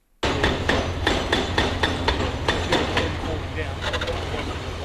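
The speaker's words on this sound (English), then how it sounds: "The hammering sounds of demolition stands in stark contrast to the roaring crowds of Lancaster Park's glory days." Machine hammering during demolition of the earthquake-damaged grandstand at Lancaster Park, a rapid series of loud, regular metallic impacts over a heavy rumbling background, continuing without pause after an abrupt start.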